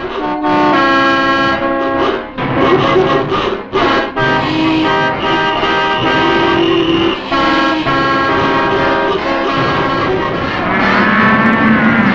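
Car horns honk steadily in a 1959-era traffic jam, with several overlapping toots and blares under continuous road noise, loud and dense throughout.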